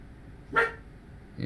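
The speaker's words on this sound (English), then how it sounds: "Yeah, she's barking." A single short bark from a dog named Maya, fairly close and moderately loud, in an otherwise quiet indoor room.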